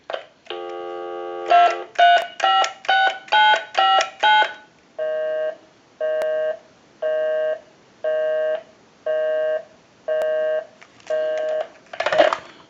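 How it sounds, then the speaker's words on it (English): Western Electric Trimline telephone giving a steady dial tone, then a quick run of DTMF dialing beeps, followed by a slow, regular busy signal pulsing about ten times, clear and close with no talk. "We'll give you some dial tone, and I'll call my number, and it'll be busy."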